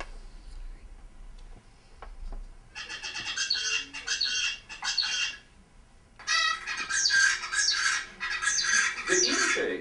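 Zebra finch pupils imitate an isolate's song, producing harsh, buzzy squawks and clicking syllables in dense, rapid phrases that grow louder and more continuous toward the end, close-miked.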